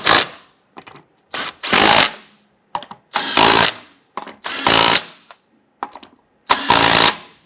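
Bursts from a power tool snugging down the lug nuts on a 1997-2006 Jeep Wrangler wheel, loud and close, in about eight short, sharp runs separated by silent pauses.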